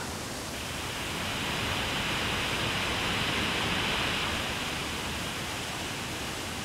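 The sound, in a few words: Biryong (Changbai) waterfall roaring on Baekdu Mountain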